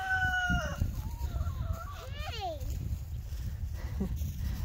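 Roosters crow in long rising-and-falling calls with clucking chickens around them in a farm coop, mixed with a person's voice and steady low background rumble.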